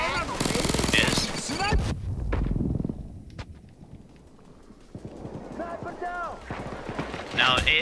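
Gunfire from a sniper rifle and automatic weapons in the heist shooter Payday 2, with sharp bursts and single cracks spread across the scene, loud and close, mixed with game effects and voices.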